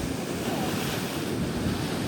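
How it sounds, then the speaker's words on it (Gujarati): Rough, stormy sea surges in a steady, loud wash of breaking waves, heavy wind buffeting the microphone throughout with no voices over it. "જોવો કઈ કેવા મોજા"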